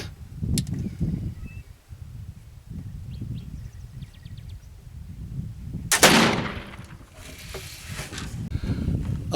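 A single loud black powder gun shot cracks out midway, with a long rumbling boom trailing after it, against a murky outdoor background of low rustling and wind.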